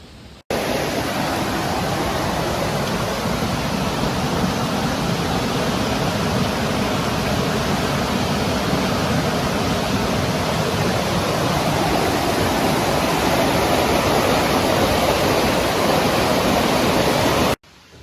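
Creek water flows right beside a road in a continuous, loud, even rush. The steady wash of running water fills the whole stretch with no pauses and no voices.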